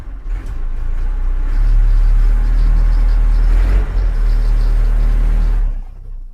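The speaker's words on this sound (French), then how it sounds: "Pousse-la un peu plus sur la colline. Je mets en 4 roues motrices." A car engine labors and revs in four-wheel drive while climbing a slippery hill, a loud, steady low rumble that swells and holds close throughout before easing off at the end.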